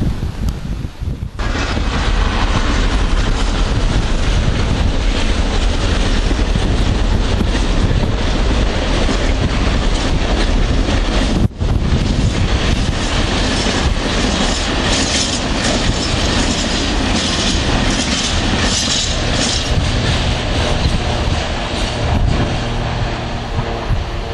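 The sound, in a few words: freight train passing at Werrington Junction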